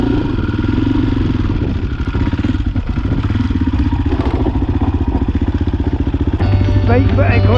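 KTM motorcycle engine revving hard on a hill climb at a Scottish ski centre, a loud steady buzzing drone with rapid pulsing throughout, rising at the end.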